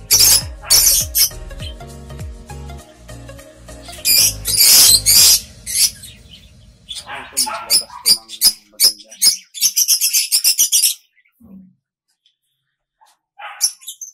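Birds in an aviary chirp in loud, sharp bursts mixed with deeper barking-like calls, the chatter thinning into scattered tweets before a near-silent stretch and one last faint chirp.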